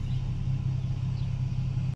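Low, steady exhaust rumble from a 2009 Ford Mustang V6 fitted with a new exhaust, idling quietly while backing up, a deep continuous drone lasting about two seconds.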